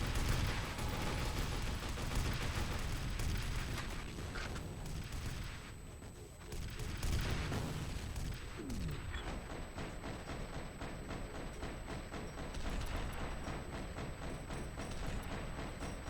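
Rocket blasts and gunfire in the shooter game F.E.A.R.: Perseus Mandate, a loud continuous barrage of booms and rattling shots that fills the whole stretch with dense, overlapping impacts.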